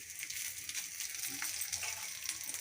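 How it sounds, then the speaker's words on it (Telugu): Dried red chillies, green chillies and washed coriander leaves fry in a pan with a close, continuous crackling hiss that stays steady throughout. "కడిగి పెట్టుకున్న కొత్తిమీర ఇవి వేసి బాగా వేపుకోవాలి"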